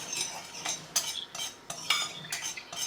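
Suet pastry ingredients of suet and flour are mixed in a bowl, producing a regular series of scraping, clinking strokes from a utensil against the bowl, close and fairly quiet, with no talk.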